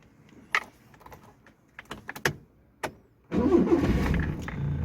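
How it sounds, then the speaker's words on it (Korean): An 80s Honda City Cabriolet with a choke valve: a few scattered clicks and clunks, then the engine cranks and catches at once into a loud, steady running roar close by. "시동 걸리는 소리 한번 들어볼까요?"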